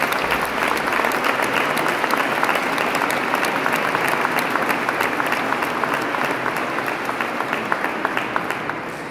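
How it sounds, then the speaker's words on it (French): Loud, sustained applause from a festival audience at the Festival des Légendes in Saint-Étienne, a thick, continuous clapping that tapers slightly toward the end. "j'aimerais qu'on l'applaudisse très fort"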